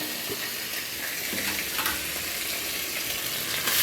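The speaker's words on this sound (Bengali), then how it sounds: "এরকম কড়াইয়ে আলু দিয়ে দিচ্ছি আলুগুলো নেড়ে ছেড়ে নেবো ভালো করে ভেজে নেবো" Potatoes fry in oil in a wok, giving a continuous close sizzle with a few scraping stirs, and no voices.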